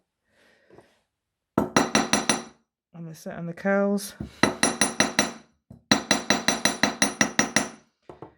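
Small-faced hammer striking wire jewellery loops in Celtic Nouveau wirework, heard as rapid bursts of sharp metallic taps in quick, even series, close and loud, with a brief spoken phrase between the bursts.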